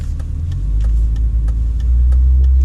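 A BMW 528ia E39 drives on a snowy, slippery road with a loud, steady low engine rumble. Soft rhythmic ticks, like tires crossing a rough or icy surface, repeat about every third of a second.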